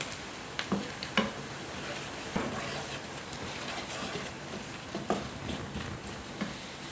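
Flour cooks in melted butter in a pan for macaroni and cheese, giving a soft, steady sizzle with occasional light scrapes and taps of a utensil stirring it.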